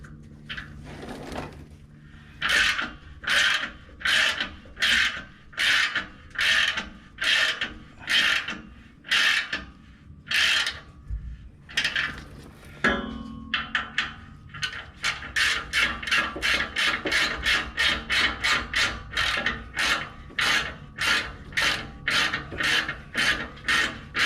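Torque wrench ratcheting on the exhaust bolts of a Toyota 5.7 iForce V8 fitted with a Corsa performance exhaust: close, crisp bursts of clicking in regular strokes, slower at first, then a quick steady run of ratchet clicks, with no talking.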